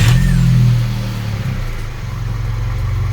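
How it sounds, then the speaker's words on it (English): A Volkswagen Polo engine turns over and catches, settling from a brief surge into a steady low idle. "I've got the key. I'm just going to start it up."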